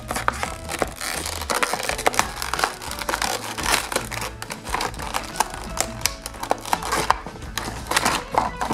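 Cardboard and plastic packaging crackle, crunch and rustle continuously at close range as a Blaze toy car is pulled free from its box, with sharp snapping clicks throughout.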